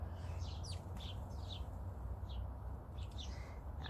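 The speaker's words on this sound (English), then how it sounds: "Hello baby bird." Small birds chirp in short bright bursts, scattered across a few seconds over a steady low background rumble, with no talking.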